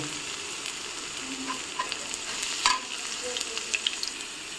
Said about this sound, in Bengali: পেঁয়াজটাকে একটু লাল করে ভেজে নিব। এখন আমি এখানে রসুন কুচিগুলো দিয়ে দিব।